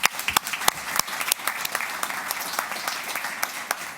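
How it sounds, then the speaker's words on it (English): Applause at a Toronto Transit Commission board meeting for Susan: a small room of people clapping, with sharp individual claps standing out in an uneven, moderately loud burst that stays steady for a few seconds. "I'm going to give her a clap."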